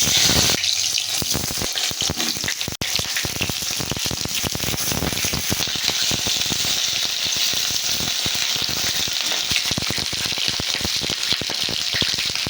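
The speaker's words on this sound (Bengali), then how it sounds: "তেলটা আমার গরম হয়ে গেছে, এবার আমি পটলগুলো দিয়ে দেবো।" Pointed gourd pieces dropped into hot oil in a wok, a loud dense crackling sizzle that runs steadily throughout, heard up close with no talking.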